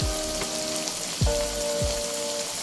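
Spices with turmeric, salt, red chilli and black pepper sizzle and crackle steadily in a hot pan as egg keema cooks, with a few soft stirring scrapes; no voices.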